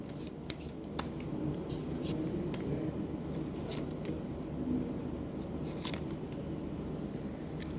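Tarot cards are drawn from a deck with soft papery slides and crisp flicks over a steady room hum, the rustles coming irregularly and close, with no talk.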